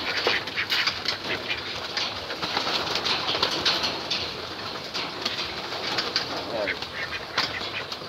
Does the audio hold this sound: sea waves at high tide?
no